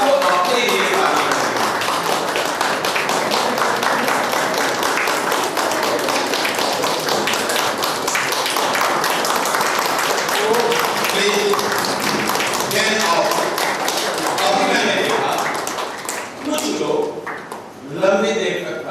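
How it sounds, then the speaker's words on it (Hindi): A training-session group applauding themselves in long, sustained clapping, dense and rapid for many seconds before it breaks up into scattered claps and fades near the end. "लंबी देर तक ताली बजाए"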